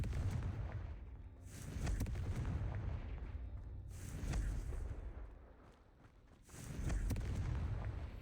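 Confringo blasting curse explosions in the Hogwarts Legacy video game, heavy rumbling booms rolling in waves, three loud surges each swelling and slowly fading, with no talking.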